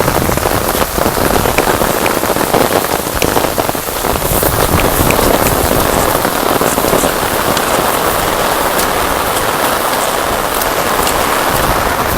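Heavy storm rain pours down steadily in a dense, continuous hiss and patter on nearby surfaces, loud and unbroken throughout with no voices.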